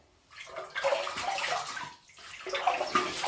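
A double-edge safety razor is rinsed under running water from a tap, with close, soft splashing and gurgling in two bursts separated by a brief pause.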